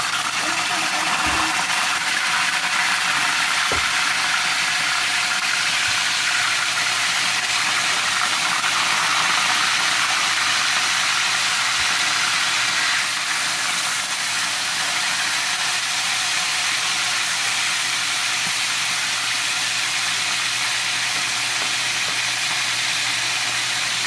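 Chicken pieces for chicken estofado sizzle in hot oil, a loud, steady hiss of frying that carries on unbroken, with a couple of brief knocks near the start.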